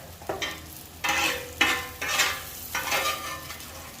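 Food scrapes and sizzles on a flat top cast iron griddle while burgers cook, in several bursts of hissing and scraping at close range with no talking.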